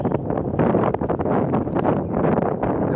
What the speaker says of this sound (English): The wind's probably kicking up a little bit.